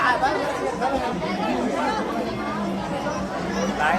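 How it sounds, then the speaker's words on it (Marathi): Dense, continuous chatter of a large crowd of devotees inside a temple, many overlapping voices close by with no single voice standing out. "भक्तांची गर्दी बघ इथे"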